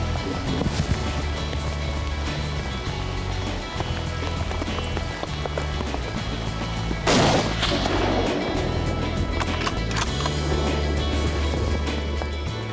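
A rifle shot during a bull elk hunt, one sharp loud crack partway through that rings out over outdoor rustling and low handling noise, with no talk around it.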